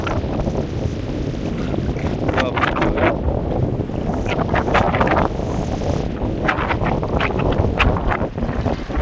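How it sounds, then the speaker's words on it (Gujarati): Strong wind buffeting a fishing boat at sea, a loud continuous rushing roar with gusty microphone noise and the wash of waves throughout. "પવન ફૂલ સ્પીડ વધતી આવે છે,"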